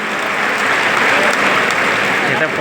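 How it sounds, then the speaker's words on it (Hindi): A crowd at a political speech event applauds loudly in a dense, continuous roar of clapping that holds steady for the whole stretch. "ऐसे देवेश चंद्र श्रीवास्तव जी के लिए जोरदार तालियां"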